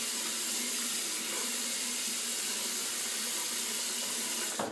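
Water runs steadily from a tap into a sink during a shave, a continuous close hiss that holds unchanged before cutting off near the end.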